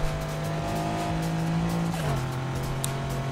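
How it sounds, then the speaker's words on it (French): A car's turbos whoosh and the engine drones in the racing video game Need for Speed Heat, with a steady, moderately loud engine tone that dips in pitch partway through and no talk. "on entend des turbos"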